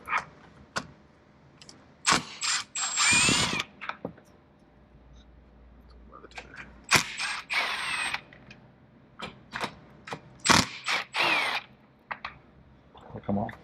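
A hand ratchet working 10 mm bolts loose from the back panel of a CF Moto ZForce 950 side-by-side, giving close, uneven bursts of rapid clicking and metallic rattling, with a voice heard briefly.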